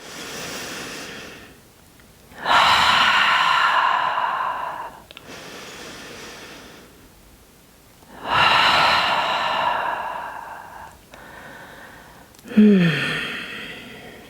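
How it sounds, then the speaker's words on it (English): Slow, audible exhales and breaths from a person holding a yoga squat, several long releasing sighs in a steady rhythm, close and clear with no talking. "2 more releasing breaths."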